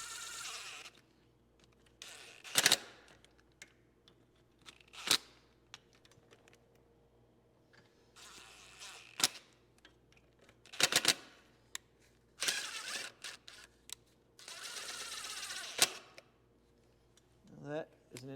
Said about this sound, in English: I'll just kind of walk them all in until it's seated even, and then we'll run the torque wrench